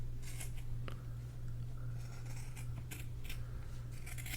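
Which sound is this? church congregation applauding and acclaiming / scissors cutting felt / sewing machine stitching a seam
scissors cutting felt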